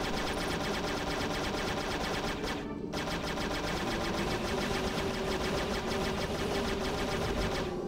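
Rapid, continuous gunfire rattles loudly and densely throughout the Aquaman video game, with a brief dip partway through and no speech.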